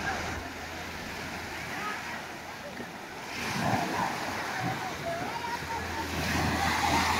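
Sea waves wash onto the crowded beach at Vityazevo, a continuous broad rush of surf with wind buffeting the microphone, swelling louder in the second half.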